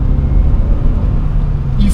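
Honda Accord Type S engine pulling hard past 3,500 revs, a loud, steady low rumble of engine and road noise under the car's cabin, continuous with a slight rise in pitch.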